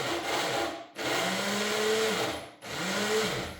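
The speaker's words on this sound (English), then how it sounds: "That's the freaking wiper wash." Three bursts of a 1973 Volvo 140's windshield washer pump droning with a rising and falling whine, separated by brief cutoffs, close and steady.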